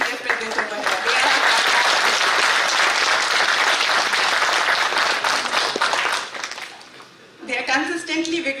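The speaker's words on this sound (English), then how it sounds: "a huge round of applause to all the student volunteers present over here" Loud, dense applause from the audience at an IEEE power electronics conference honoring student volunteers, sustained for about six seconds, then tapering into a brief lull before voices and sound resume.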